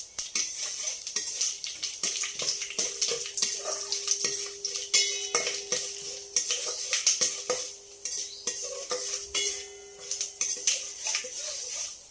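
Mustard seeds, cumin and chana dal frying in hot oil for a tempering, a steady crackling sizzle with frequent metallic clinks and scrapes of a spoon stirring the pan, close and continuous, no talking.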